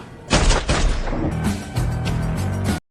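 A burst of film gunfire, several loud sharp shots in quick succession with booming tails, followed by a rapid string of repeated shots before the sound cuts off abruptly.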